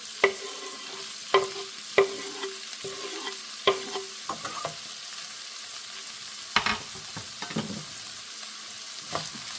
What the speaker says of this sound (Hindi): इसके बाद हम इसमें डालेंगे ग्रीन अनियन जो हमने काट के रखा था, पूरा का पूरा डाल देंगे ऐसे